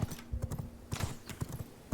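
Horse hooves clip-clop in the video game V Rising, a steady, uneven rhythm, several clusters of hoofbeats at moderate volume over faint background noise.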